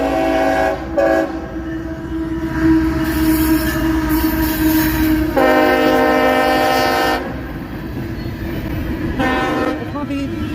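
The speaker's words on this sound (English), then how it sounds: "It's going to be right in the middle of all the trains." A CSX freight train rolls past in Logan County, Ohio, loud and close, its horn blaring in several long blasts over heavy rumbling wheels and squeals.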